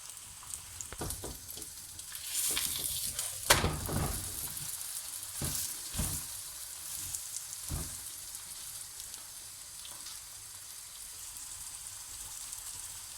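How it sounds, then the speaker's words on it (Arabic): Msemen filled with spinach and cheese sizzles in a hot oiled pan, a steady close frying crackle with a few sharper pops and stirring bursts, no voices. "كتكون المقله سخونه، غنرشو شويه تاع الزيت باش غادي نقلبها ان شاء الله"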